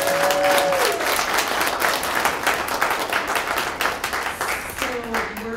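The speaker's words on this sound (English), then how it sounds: "can we just give a big round of applause to these judges?" An audience applauds at a regional poetry recitation competition, a dense, steady wash of clapping lasting throughout, with a brief tonal whistle or feedback line near the start and again near the end.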